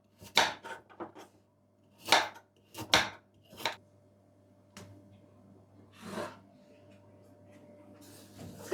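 A knife thinly slices peeled carrots on a board, with sharp, irregular chopping taps, some clustered and some spaced apart, fairly close and with quiet gaps between strokes and no talking.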